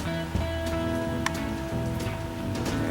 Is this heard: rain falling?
yes